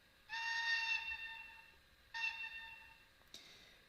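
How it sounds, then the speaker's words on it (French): An NMJ model of the SJ Of steam locomotive sounds its whistle in two separate blasts, clear and reedy against near silence. The second blast trails off before a small click. "un sifflet long"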